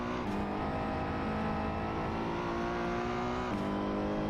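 A Ferrari 488 Challenge race car engine in Assetto Corsa drones loudly and continuously with a steady pitch, shifting gear once, backed by a constant whooshing wind rush.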